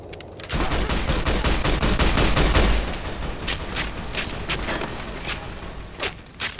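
Heavy gunfire from an old carbine during the battle for Hoover Dam in Fallout: New Vegas, rapid repeated shots in dense bursts that stay loud and close, then thin out into scattered individual reports near the end.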